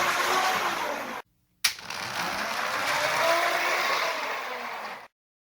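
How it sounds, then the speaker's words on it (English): Steady whirring buzz of the wind-up fake motor on a U-Gears Heavy Boy Truck VM-03 model, broken by a short gap and a sharp click as the brake releases, then running evenly before stopping abruptly. "I'm going to demonstrate running the fake motor"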